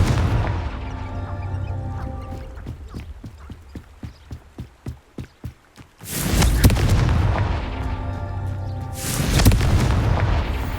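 In the Hogwarts Legacy video game, a Confringo fire spell sets off a burst of rapid rhythmic clacks. Two heavy, booming explosions follow, each with a long rumbling tail.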